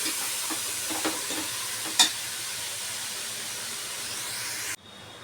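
Ivy gourd (thondekayi) fries in a pan with tomato, making a soft, steady sizzle with a few stirring scrapes early on, and the sound cuts off abruptly near the end.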